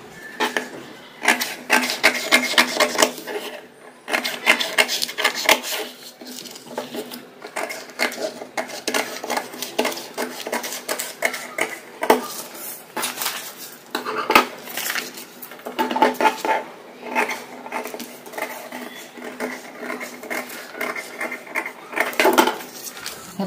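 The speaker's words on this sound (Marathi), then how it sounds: "आता आपण हिला कट करून घेऊ." Scissors snip through a paper pattern for a size 34 katori blouse, a long run of crisp rapid cuts and rustling paper, close and fairly loud, with short pauses.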